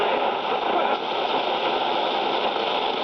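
A 1960 Philips B3X00U transistor radio hisses with steady, loud static noise, an even broadband rush with no clear station or voice, heard indoors in a concrete and steel building.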